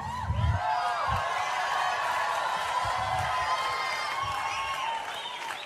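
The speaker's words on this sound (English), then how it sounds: "Why do you think these people were cheering for you like that?" An audience applauds and cheers for a motivational speaker at a live event, a sustained wash of clapping with scattered whoops and some low voices underneath.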